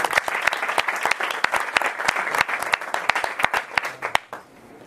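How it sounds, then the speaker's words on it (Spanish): An audience at a talk on UX applauds a team, giving several seconds of lively, close clapping from many hands that fades out sharply at the end. "aplaudís todos a mi equipo, que han sido los últimos en llegar"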